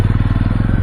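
An idling motorcycle waits, engine running, in hill-town parking near Jageshwar Dham in Almora, Uttarakhand, with a loud, nearby, steady throbbing chug of quick regular beats.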